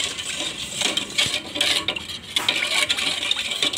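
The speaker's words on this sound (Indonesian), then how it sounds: "masak puding menggunakan api kecil sambil terus diaduk-aduk hingga mendidih" A spoon stirs chocolate pudding in a pot over low heat, a steady close scraping and swishing against the metal with a faint bubbling sizzle underneath, continuous and fairly loud, with no talking.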